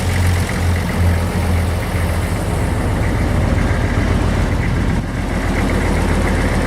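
A farm tractor up for auction, with a newly rebuilt fuel pump and new injector lines, idles with its PTO engaged, giving a loud, steady low rumble with a continuous mechanical hum throughout.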